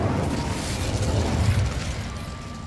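A fiery Incendio spell going off in Hogwarts Legacy, a steady rushing, crackling burst with a low rumble that holds for a few seconds at moderate loudness, with no talking.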